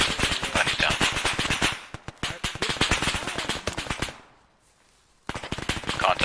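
Rapid bursts of machine gun fire ring out during military detachment squad training, loud and close, with a short pause before the firing resumes.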